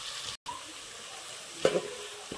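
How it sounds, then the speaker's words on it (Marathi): Garlic sizzles in hot oil in a pan for a Konkani-style vegetable dish, a soft, steady frying hiss with a brief stir near the end. "तेलामध्ये लसूण टाकलेले आहे."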